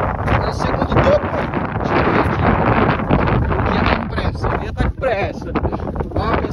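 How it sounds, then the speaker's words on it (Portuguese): Strong wind buffets the microphone in loud, continuous gusts on a mountain summit at Ibitipoca, Minas Gerais, Brazil, with faint voices barely audible beneath the roar. "tá ventando muito"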